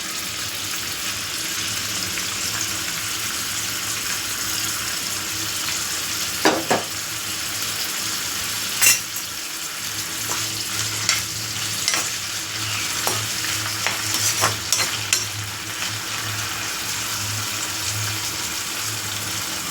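Ingredients for a dried cucumber curry fry in a pan, a steady close sizzle with occasional stirring clinks and scrapes and brief running water, no talk.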